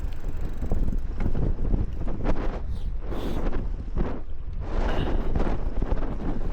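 Strong wind in Marmaris National Park blasts the microphone continuously, a loud rushing roar with buffeting gusts and no voices.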